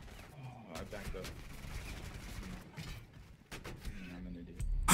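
Gunfire in the video game Rainbow Six Siege, a quiet, irregular series of shots and bursts scattered across the clip.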